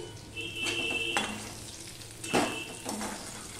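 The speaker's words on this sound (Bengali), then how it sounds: "আলুটাও ভাজা হয়ে গেছে, সিদ্ধও হয়ে গেছে ভাজার সাথে" Potatoes fry in oil in a pan, a quiet continuous sizzle close by, broken by a few metallic scrapes and clinks of a utensil stirring against the pan.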